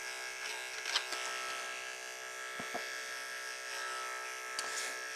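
Electric hair clippers fitted with a 1.5 blade cutting a boy's textured hair, a steady close buzz with sharp tonal hum and brief louder bursts as the blade bites into hair.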